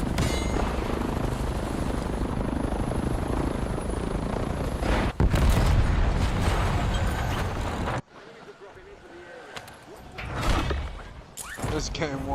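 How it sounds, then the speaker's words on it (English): A helicopter in a video game thunders overhead with a dense, loud rotor roar, joined by a sharp bang and other game noise, then drops away abruptly before some fainter rumbling returns; a voice talks over it. "It's a heli whopper."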